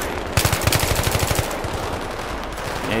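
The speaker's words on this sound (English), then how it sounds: "Was that guy shooting at me while I was shooting right at him?" Rapid automatic gunfire in the video game Battlefield 3 campaign: a steady, evenly spaced burst of loud shots rattles for about a second, then trails into a noisy wash of continuing fire and ambient combat.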